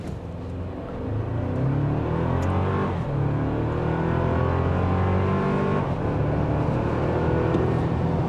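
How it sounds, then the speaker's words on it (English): A 2024 Toyota Tacoma TRD pickup accelerates hard from a brake-torque launch on a slight downhill grade, its engine note climbing steadily and loudly through rising gears, with brief dips at each shift, heard from inside the cab. "Let's see what we can get in this little run. We'll brake torque it."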